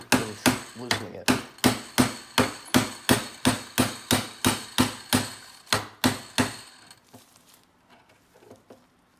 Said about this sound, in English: let's grab a hammer and get this some light shock